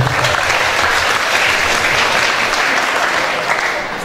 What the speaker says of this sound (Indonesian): Tepuk tangan kita semua dulu.